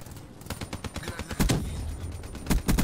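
Rapid bursts of gunfire from Call of Duty Black Ops 3 multiplayer, several sharp volleys close together with louder shots near the end, and no talk over it.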